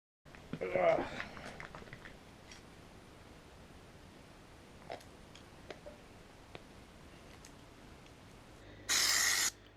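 Truck bed liner sprayed from an aerosol can for a garage roof lets out one short, loud hissing burst near the end, after earlier talk and faint handling noises.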